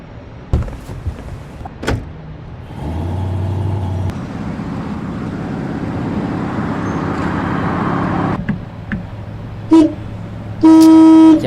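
A car horn sounds in street traffic, first in short toots, then a longer held honk near the end, over a continuous engine and road rumble with a few door-like clunks.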